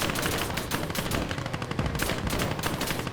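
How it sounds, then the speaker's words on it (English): Dense gunfire in the WWII strategy game Gates of Hell, with rapid machine-gun bursts and overlapping rifle shots crackling continuously at a steady, loud level with no talking. "who's shooting us from behind?"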